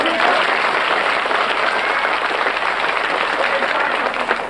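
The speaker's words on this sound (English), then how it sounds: "when I count to 3, clap a little bit louder" A group claps together in a steady, fairly loud burst of applause that lasts for several seconds, with voices audible beneath it.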